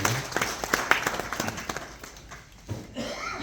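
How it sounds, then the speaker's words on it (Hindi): An audience at a Hindi novel launch event claps in a short burst of applause, individual claps distinct and close, tapering off toward the end with a faint voice beneath. "ताली हो जाए।"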